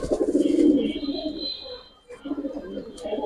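Pigeons from a collection of giribaz fancy birds coo close by in low, throaty, rolling bursts. There is a short pause midway before the cooing resumes.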